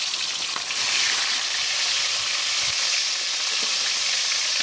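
Fish frying in a pan of hot oil, a dense, steady sizzle that holds at constant loudness throughout with faint crackles and no voices.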